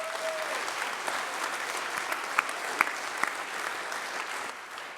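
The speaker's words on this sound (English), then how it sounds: "Give him a big round of applause." A congregation claps warmly for a rabbi emeritus at a celebration, a steady roomful of applause with a few sharper individual claps standing out before it tapers slightly at the end.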